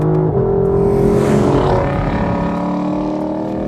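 A Lexus LC 500 V8 engine at wide open throttle, loud and continuous, its droning roar rising in pitch as revs climb, heard alone.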